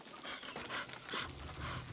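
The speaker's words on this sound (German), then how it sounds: "Das ist aber ein schöner Hund." A dog panting in the video game Pentiment, a fine-looking hunting dog near a windmill, with soft rhythmic breathy pulses repeating close by, alone and without talk.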